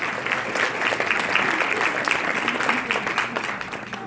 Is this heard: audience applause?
yes